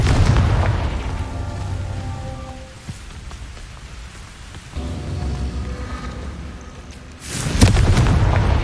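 Confringo spell blasts in a video game come as a loud rumbling burst, then a sustained crackling roar, with a second heavy surge swelling near the end.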